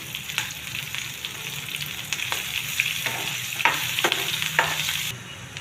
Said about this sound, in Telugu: పోపు అంతా వేగిందండి